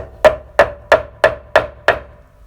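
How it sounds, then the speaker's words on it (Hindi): A hammer strikes the kick shaft of a Honda CD 70 motorcycle six times in a steady rhythm, each close, loud metallic clank ringing briefly before the next blow. "ऊपर जो हमारा हैमर उससे आपने हिट करना"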